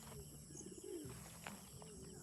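Pigeons in a backyard coop coo softly in low, throaty repeated notes against a steady outdoor hum, with faint chirps around them.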